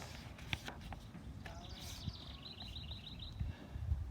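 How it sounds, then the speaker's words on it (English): Faint birds chirp in the distance, a short run of quick tweets in the middle, over soft outdoor rustle and light footsteps. "And hear the birds?"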